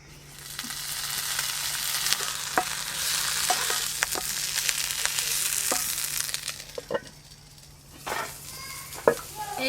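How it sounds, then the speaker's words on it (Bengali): Snakehead fish paturi wrapped in pumpkin leaves fries in hot oil with a dense, steady sizzle, close and loud, punctuated by occasional sharp spatula taps against the pan before the sizzle briefly drops. "আর দুটো ভাজলেই সব পাতুরি ভাজা হয়ে যাবে"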